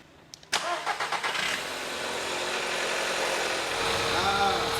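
A VW Polo R's engine cranks with a few quick stuttering turns, fires up close and loud, then settles into a steady idle.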